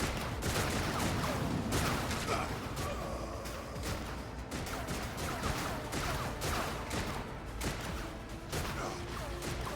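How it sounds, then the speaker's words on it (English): Automatic gunfire in the Warhammer 40,000 video game Rogue Trader: loud, dense volleys of rapid shots and crashing impacts fill the whole stretch with almost no pause, like a busy battle. "As the auto fire whizzes by."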